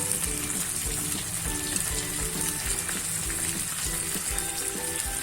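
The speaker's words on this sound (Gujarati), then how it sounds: "એક ચમચી જેટલું પાણી નાખીને આપણે તે મસાલો પણ આપણે શાકમાં ઉમેરી દઈશું" Spice paste loosened with a spoonful of water sizzles as it goes into a fenugreek seed curry, a dense steady hiss with bubbling underneath that continues without a break.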